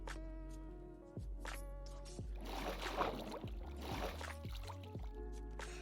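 A boat glides through water in Minecraft 1.15 with soft paddling splashes and trickling under steady game background tones. Several sustained musical notes step downward alongside it.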